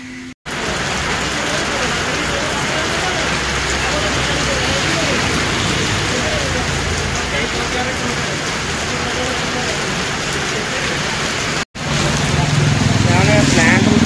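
Heavy rain pours steadily outdoors on a rainy day, a dense, loud, continuous hiss that holds without pause for the whole stretch, with only brief dropouts in the recording.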